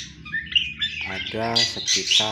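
Birds in an aviary give loud harsh squawks and chirps close by, and a voice speaks partly over the calls.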